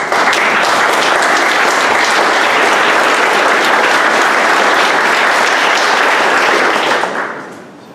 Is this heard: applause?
yes